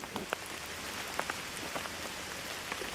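Rain falls steadily, a continuous hiss dotted with sharper patters of drops hitting a surface, fairly loud and with no voices over it.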